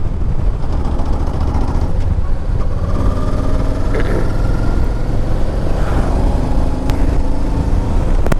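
A 2009 Yamaha 950 Tourer motorcycle being ridden, its engine a steady loud rumble mixed with heavy wind rush, continuous throughout with slight shifts in tone.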